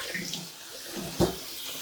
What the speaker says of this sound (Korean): 이렇게 깨끗하게 여러 번 헹궈주세요.